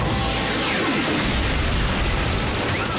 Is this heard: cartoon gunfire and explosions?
yes